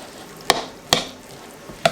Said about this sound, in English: And then I'm just going to stir it all up